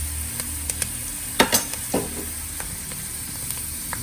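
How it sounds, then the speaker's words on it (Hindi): Cumin seeds sizzle in hot oil with a soft steady hiss, punctuated by a few sharp pops and light scraping clicks, up close. "जीरे की बहुत ही प्यारी सी आवाज़ आ रही है"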